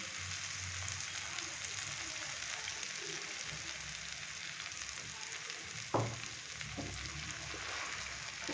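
Egg and tomato frying in a pan, giving a steady, soft, even sizzle that runs throughout, with one brief utensil scrape or clink partway through.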